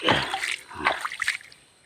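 Water poured onto a stone marked with natural lines, giving two or three short close splashes and trickles that fade into quiet near the end.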